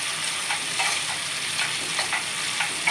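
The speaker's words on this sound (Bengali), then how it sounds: "একটু নাড়িয়ে দেওয়ার জন্য ঢাকনাটা তুলে নিলাম।" Bottle gourd curry stirred in a pan after the lid comes off, a soft, continuous sizzle marked by several short scraping strokes close by.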